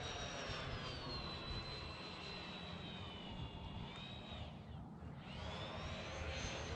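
A Freewing F-14 RC jet with twin 80mm electric ducted fans screams overhead in a steady high whine that shifts in pitch as it maneuvers, briefly dipping before rising again, heard from the ground at a distance.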